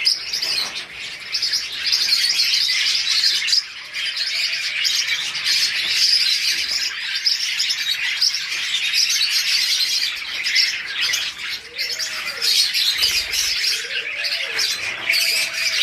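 Pet budgerigars, forpus parrotlets and lovebirds chirping together in a busy, continuous chorus of close, bright tweets and squawks, with no talk.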